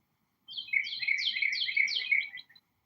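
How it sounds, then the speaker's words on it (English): Birds chirp outdoors in one quick, rapid burst of high twittering lasting about two seconds, fairly faint and heard alone against quiet. "I'm listening to birds chirping in the background."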